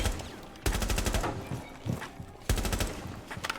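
Jager's defender gun in Rainbow Six Siege firing two loud rapid automatic bursts, each a dense string of shots with rattling echoes, close and dominant.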